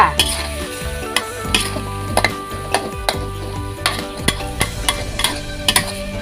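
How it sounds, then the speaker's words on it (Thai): Carp and holy basil being stir-fried together in a pan, with steady sizzling under repeated sharp scrapes and clanks of a utensil against the metal, close and loud, in a brisk uneven rhythm. "ผัดรวมกันค่ะ"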